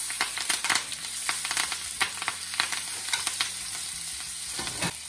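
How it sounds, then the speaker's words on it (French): A veal chop sears in a pan with butter and thyme, giving a constant close sizzle punctuated by frequent sharp spatters and clicks of utensils as the meat is basted. No one speaks. "Quand ma côte de veau commence à être bien saisie, là on va rajouter du beurre."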